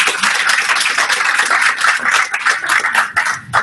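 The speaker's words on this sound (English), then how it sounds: "another round of applause" An audience at a talk on Universal Design for Learning gives a round of applause, a steady patter of many hands clapping nearby with slight swells and no talk over it.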